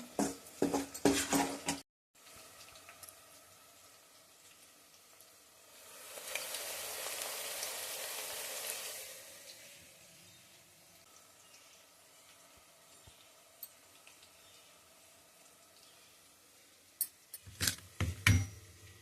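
Masala frying in a pan for a toor dal egg biryani, a steady low sizzle with a louder hiss swelling in the middle, bracketed by bursts of clattering stirring at the start and end, close and without speech.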